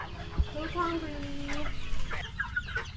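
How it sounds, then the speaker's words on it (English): Chickens on a working farm in the Philippines clucking and calling at feeding time, several birds close by with drawn-out tonal notes, over steady background noise and occasional faint voices. "All right, time for some chicken feeding."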